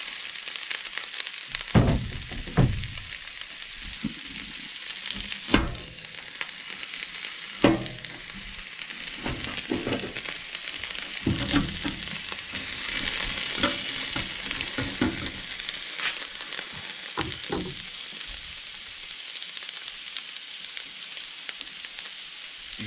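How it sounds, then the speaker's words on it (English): Peppers and onions fry on a 22-inch Blackstone griddle outdoors on a tailgate, a steady close sizzle broken by the scrape and clatter of a spatula stirring at intervals, with no voices. "we're going to get started here doing up some peppers and onions."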